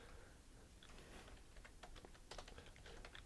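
Quick bursts of typing on a computer keyboard, light key clicks tapping in uneven runs, close but faint over a low background hiss.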